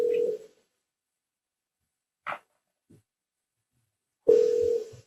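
Tones on a recorded phone call: a short steady tone at the start and a longer one near the end, separated by near silence with a couple of faint brief blips.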